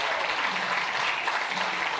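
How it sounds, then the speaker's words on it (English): Crowd applause at a Para shooting final, mixed 10m air rifle standing SH2 in Cheongju, a steady, dense wash of clapping held at an even level throughout. "You hear the crowd really getting involved."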